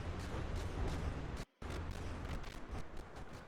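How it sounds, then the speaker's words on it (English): Rapid, crackling bursts of small video-game explosions keep popping throughout, dense and distant, broken by a brief moment of silence partway through. "I am curious what all these little explosions down here are."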